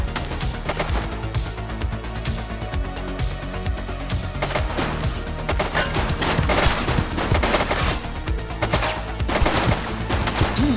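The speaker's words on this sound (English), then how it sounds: "She's shooting." Dense, continuous gunfire from The Precinct, a police video game, with overlapping bursts and sharp cracks running loud throughout, like a sustained firefight with a shooting suspect.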